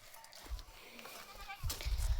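Village goats bleat faintly in the distance, a few soft, brief calls over low outdoor background noise, with no one speaking.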